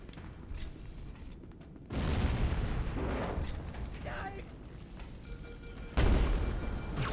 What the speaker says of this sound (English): if there's explosions happening inside the ship